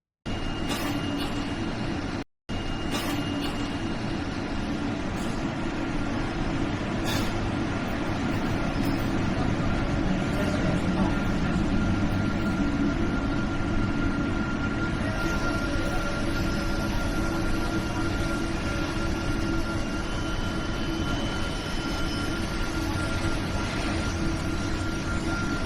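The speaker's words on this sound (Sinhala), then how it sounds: "මෙතනින් KLI එක්ස්ප්‍රස් ට්‍රේන් එක අරගෙන ආපහු මගේ සිටි එකට යනවා" Inside a KLIA Express airport train, a steady loud low rumble of the carriage runs continuously, broken by one brief dropout near the start, with no one speaking.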